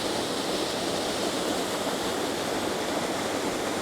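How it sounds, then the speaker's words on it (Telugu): Fresh mountain spring water tumbles down a waterfall in Samoa, making a steady, dense roar that stays even and unbroken throughout, with no voices. "ఫ్రెండ్స్ చూస్తున్నారుగా ఇక్కడ వాటర్ ఫాల్ని."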